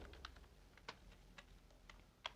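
Keystrokes on a computer keyboard while typing text into Visual Studio Code, a handful of separate soft clicks spaced irregularly across a couple of seconds, quiet and close with no talking.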